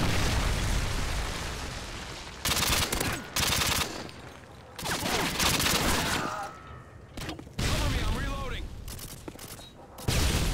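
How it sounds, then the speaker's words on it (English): A Predator missile strike lands in Call of Duty: Modern Warfare 2 with loud, booming blasts. Rattling gunfire bursts and explosions repeat amid a dense, chaotic multiplayer battle soundscape. "Friendly Predator missile incoming."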